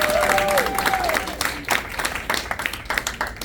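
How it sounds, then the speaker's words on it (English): An audience at a community talk claps for the host, a warm round of applause that swells briefly with a vocal whoop near the start, then thins into scattered claps toward the end. "Y'all give Sam a hand clap."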